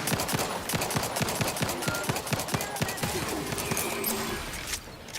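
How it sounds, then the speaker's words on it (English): Rapid gunfire in a video game, a close, fast run of sharp shots in a steady rhythm for several seconds that thins out near the end. "Oh my lordy, it's a pistol."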